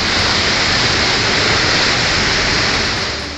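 Floodwater roars through swollen drains after torrential rain in Kotdwar, Pauri Garhwal, Uttarakhand, a loud, dense, unbroken rushing wash that stays steady throughout and tapers slightly at the end.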